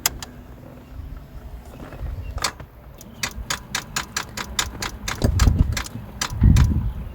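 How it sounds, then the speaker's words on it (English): Starter on a rundown car with a bad battery clicking repeatedly, a rapid train of sharp, close ticks over low engine-bay noise and a few dull thumps, with no talk. "see the starter's clicking and everything."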